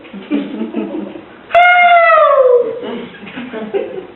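A voice imitates a hound dog howling, a single drawn-out howl that slides downward, loud and close, set between stretches of his ordinary talk.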